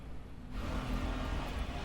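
A parked car out front starts up and revs, heard from a distance through walls as a steady low rumble that swells after a quiet moment and holds at a muffled level.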